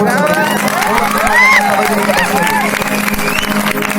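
A live folk singing show celebrates Annabhau Sathe's anniversary, and women in the audience clap along. The clapping sits under a loud, continuous crowd noise with singing or shouting voices on top.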